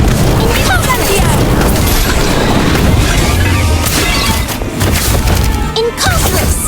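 Incendio fire spell cast in the Harry Potter: Magic Awakened video game, loud dense crashing and booming bursts layered over busy continuous battle effects.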